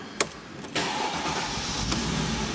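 A 2007 Mercedes-Benz CLK500 Avantgarde convertible with a 5.5-litre engine cranks briefly and fires up, then settles into a loud, steady idle close by, with no talking.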